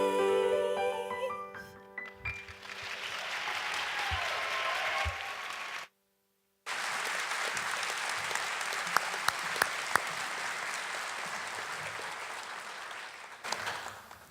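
Sustained audience applause at a live storytelling stage show in Orlando, steady clapping from a full room that cuts out briefly, then resumes just as strongly.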